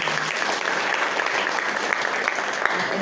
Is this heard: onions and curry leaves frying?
no